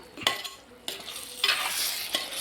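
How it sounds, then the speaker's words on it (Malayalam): Pepper chicken sizzles in a pan while a spoon stirs it, scraping and clacking against the metal in several uneven strokes over a steady frying hiss, close and fairly loud with no voices. "നമുക്കൊന്ന് ഇളക്കി നോക്കാം."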